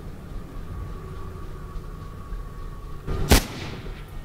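A single loud gunshot in the video game Mirror's Edge, cracking sharply out of a low, steady background hum and fading quickly.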